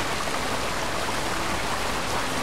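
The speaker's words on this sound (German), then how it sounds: "Ja, Wasserfall sehr laut." Steady, loud broadband rush of a waterfall in the RIME video game, a continuous roaring wash of falling water with no breaks or voices.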